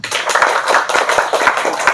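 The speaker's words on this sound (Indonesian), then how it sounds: "Tepuk tangan dulu." An audience at a talk claps briefly, a close, loud burst of hand claps with a quick, uneven rhythm that holds for a couple of seconds before cutting off.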